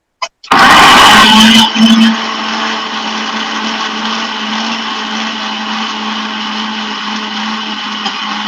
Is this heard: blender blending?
yes